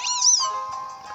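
Litten, the fire-type cat Pokémon, cries in Pokémon Sun with one clear, close meow that rises and then falls. A softer, sustained tone trails on after it.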